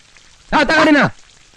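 Rain falls as a faint, steady hiss throughout. A voice briefly speaks over it in the middle of the scene.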